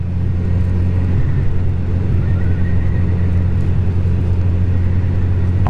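Steady, loud engine drone from a 2018 Honda CB1000R motorcycle while riding, a continuous low rumble with wind noise and no break across the whole stretch.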